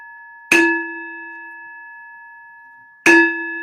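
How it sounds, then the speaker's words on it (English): A bell is struck twice a few seconds apart, each a bright clear ding with a long ringing decay in an otherwise silent room. "Ring that bell."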